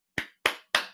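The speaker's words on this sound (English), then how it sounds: "I'm going to put my mic down so I can applaud." A single person claps three times, close up, with sharp, evenly spaced claps in otherwise silent surroundings.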